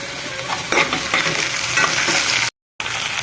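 Curry leaves hit hot oil in a pan with onion and garlic for a banana stem kootu, making a loud, continuous crackling sizzle with stirring scrapes, broken by a brief dropout near the end.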